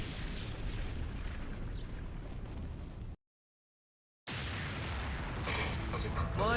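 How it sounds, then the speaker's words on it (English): Dense, roaring explosions from the video game Shadow Man fill the scene, a continuous loud rumble broken by a brief silent gap before the blasts resume, with faint voice-like sounds mixed in. "Whoa, the explosions are more spectacular now."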